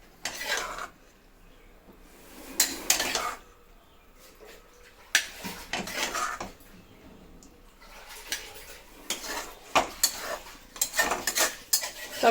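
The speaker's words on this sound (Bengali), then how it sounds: "এবার আমি একটা পাত্রে ঢেলে নিয়ে তোমাদের দেখাচ্ছি" Cooked mustard greens with chicken being spooned from a pan into a bowl, with repeated metal-on-metal clinks and scrapes in uneven bursts, close and clear.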